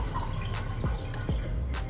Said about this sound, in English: So we're gonna pour in some Marnier.